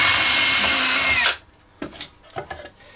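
A power drill bores screw holes through wood for a dog walking rack, a loud steady whine for just over a second before stopping abruptly, followed by quiet with a few soft knocks and handling sounds.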